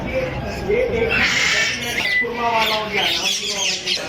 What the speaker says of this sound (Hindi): और ये मैना है।